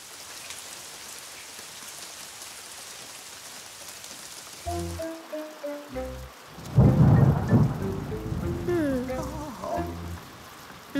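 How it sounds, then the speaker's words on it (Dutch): A cartoon storm starts with a steady hiss of rain, then heavy thunder cracks and rumbles break in loudly midway as the downpour intensifies, with cartoonish musical tones woven through. "Nu regent het nog harder."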